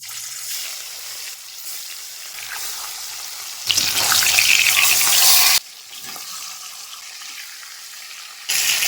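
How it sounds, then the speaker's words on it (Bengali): Mrigal fish pieces fry in hot oil in a wok, a bright crackling sizzle bursting in loudly for a couple of seconds, with quieter kitchen noise before and after and another loud burst at the end. "তেল ভালোভাবে গরম করে নিয়েছি, মাছ ভেজে নেব।"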